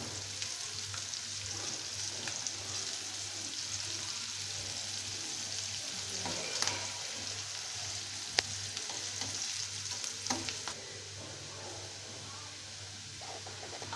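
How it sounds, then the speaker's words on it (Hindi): Onions fry in a pan for an Indian-style pasta, a steady close sizzle with occasional stirring scrapes and soft clinks, the hiss running continuously and easing slightly near the end. "ये देखिए प्याज भुन रहा है"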